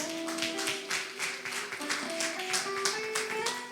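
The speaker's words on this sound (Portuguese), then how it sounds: "Você pode aplaudir o nome do Senhor?" A church congregation applauds during an evening worship service, rhythmic clapping of many hands with faint sustained tones underneath, fairly soft and steady throughout.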